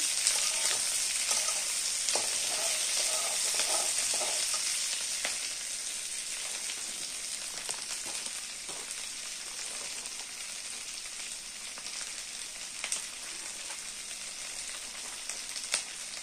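Paneer fries in a pan with a dense, even sizzle like steady hiss, stirred now and then with faint scrapes. The sizzle is louder at first and settles slightly quieter, with no speech.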